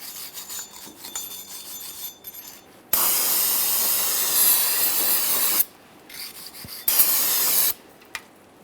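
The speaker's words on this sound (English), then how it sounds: "You can use a wire brush and some parts cleaner." Parts cleaner is sprayed onto the rear axle mating surface of a 2007-2017 Jeep Wrangler during a brake replacement: a long, loud, close hiss, a pause, then a second shorter burst.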